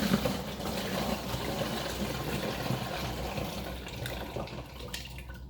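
Liquid poured through a makeshift funnel into a 4-liter bottle, a soft continuous trickling splash that fades slightly toward the end.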